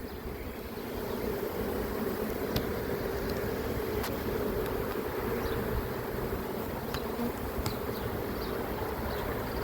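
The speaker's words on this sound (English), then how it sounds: "I'm going to take a good look through these bees" A dense swarm of honey bees being collected, buzzing steadily all around, a constant loud droning hum with individual bees zipping past now and then.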